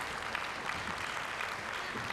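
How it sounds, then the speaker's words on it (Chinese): Students at a regional preliminary round of a youth diplomacy performance contest clap for themselves in a full, even round of applause from a crowded hall. "你们该给自己一个很大的掌声"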